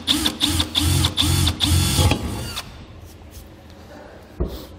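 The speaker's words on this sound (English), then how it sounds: "Then we can go ahead and drill that all the way through." A power drill bores through a Ram truck bed for a Curt fifth wheel rail in a few loud, rhythmic bursts over about two seconds, followed by quieter handling noises and a brief knock.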